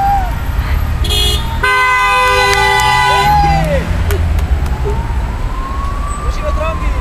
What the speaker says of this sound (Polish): Musimy trąbić! Trąbimy na górze, nie wstydzimy się!